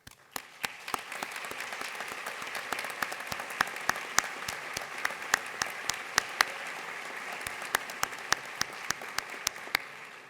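An awards ceremony crowd applauds the standing committee members at the DCS Awards Ceremony 2022, a continuous even clapping that lasts about ten seconds, dotted with crisp, close individual hand claps throughout.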